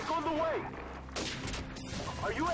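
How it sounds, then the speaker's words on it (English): Airstrike explosions in an online multiplayer shooter game, a burst of heavy booms and crackling impacts landing over a couple of seconds, mixed with game noise and a faint voice-like tone. "Alright, airstrike. Airstrike incoming. I'm dropping it on their heads."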